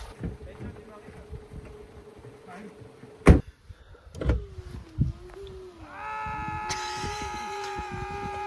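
A Renault Clio's starter motor, after a few scattered knocks and clicks, whirs into a steady, fairly loud electric whine that holds through the final seconds.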